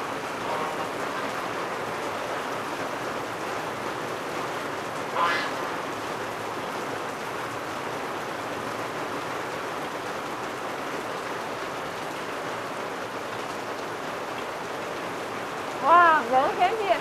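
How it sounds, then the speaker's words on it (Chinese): Heavy rain pours in a constant dense hiss, close and even throughout, with a brief duck-like call early on and a short burst of quacking near the end. "好大雨呀！"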